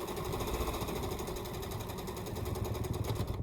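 A sewing machine stitching a quilt, a fast continuous mechanical chatter running steadily throughout at a quiet, close level.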